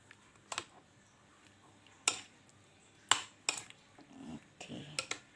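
Cut pineapple being mixed into flour batter in a bowl, a few separate clinks and scrapes of a utensil against the container, quiet and sparse over a soft background.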